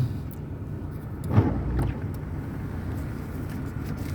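A 2021 Lada Granta automatic on summer tyres driving through a snowstorm, its steady low road and engine rumble filling the cabin, with a brief soft thump partway through.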